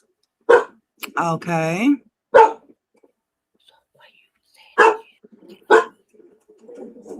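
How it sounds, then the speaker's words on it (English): A few short, sharp dog barks ring out at moderate distance, scattered between bits of quiet speech and a soft whisper. "Hang on, my dog's barking."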